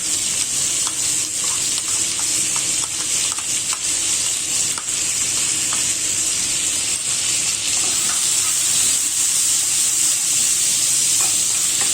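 Finely chopped onions fry over a high flame in a pan, giving a constant close sizzle and hiss with light scraping from stirring, and no talking.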